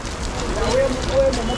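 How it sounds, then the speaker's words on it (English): Rain falls on a city street in Pretoria's central business district at knock-off time, a soft steady patter with faint street noise and a brief voice. "It's raining."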